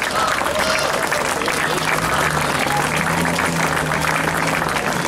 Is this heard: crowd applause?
yes